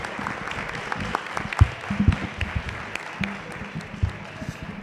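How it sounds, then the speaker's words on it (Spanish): An audience at an academic anniversary celebration claps in scattered, uneven bursts, moderately close, with a voice briefly heard under the applause. "Les pido un enorme aplauso y les doy la palabra"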